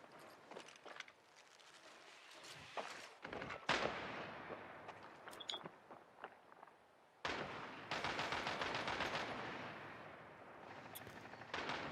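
Rapid bursts of gunfire in Rainbow Six Siege, sharp repeated shots and automatic volleys, some close and loud, others more distant, with a dense sustained stretch of firing toward the end.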